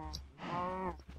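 Cattle in a video game moo in a long, drawn-out call, loud and close, with shorter moo-like sounds just before and after.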